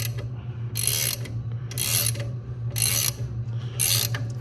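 New rear lower arm bushings are pressed into a 1972 Lincoln Mark IV, giving four evenly spaced bursts of harsh mechanical grinding over a steady low hum, close and fairly loud, with no talk.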